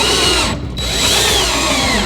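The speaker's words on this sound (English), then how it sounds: "So we just line them up and install your 1/2-inch screws." Power drill driving half-inch screws into a double oven cabinet panel during assembly, a loud whirring burst that briefly stops, then resumes and winds down, close up and alone.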